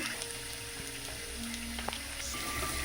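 Chopped onion fries in a pan for drumstick sambar, giving a soft, steady sizzle and crackle close by with faint scattered pops and no talk.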